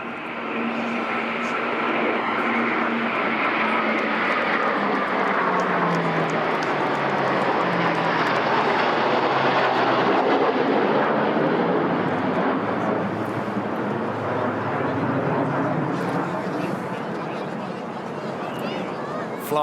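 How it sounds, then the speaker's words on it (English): A Poseidon P8 patrol aircraft escorted by two Typhoon fighter jets flies over a VE Day parade. A loud, sustained engine roar swells and fades as the aircraft pass overhead, with crowd murmur underneath. "Three aircraft next, a Poseidon P8, which is escorted here by two Typhoon."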